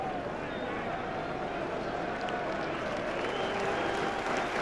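A large football stadium crowd applauds Arsenal striker Ian Wright as he is substituted, a sustained standing ovation of dense clapping and cheering, with a commentator talking over it.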